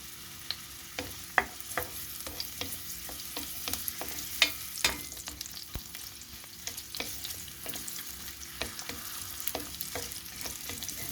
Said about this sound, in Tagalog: ilagay ko na guys ang aking onion igisa-gisa natin